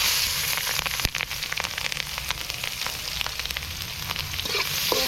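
Onion and green chili crackle and spit in hot oil for hilsa fish curry, a dense, loud, continuous sizzle with scattered pops and one sharp clack early on, no one talking.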